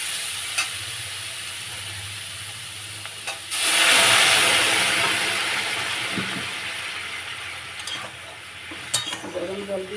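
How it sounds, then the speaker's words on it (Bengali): Hot water poured into a pan of sizzling vegetables for Bengali shukto curry bursts into a loud hiss and steam that slowly fades, with stirring and faint clinks before and after. "এবারে আমি এর মতো গরম জল দেবো।"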